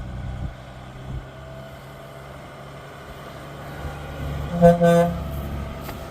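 An old truck rolling along with a low engine rumble that swells, then a short horn toot near the end rising above the drone, moderately close.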